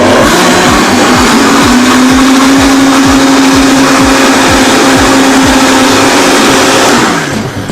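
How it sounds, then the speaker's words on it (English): A blender whirs at high speed through a sauce as olive oil is poured in, a loud, steady motor whine with a churning rhythm that winds down at the end. "You can put it in through the top, turn your blender on,"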